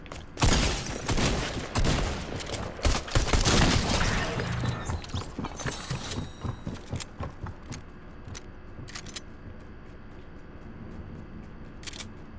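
Fortnite gameplay with a pistol firing in rapid, crackling bursts, dense and loud over the first several seconds, then thinning to scattered sharp clicks and pops that grow sparser and quieter toward the end.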